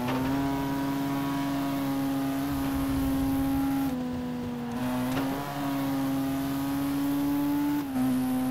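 A Vauxhall race car engine in the DTM Race Driver 3 video game holds a steady, loud droning pitch with slight dips and rises as it accelerates, continuous and close, with no voices.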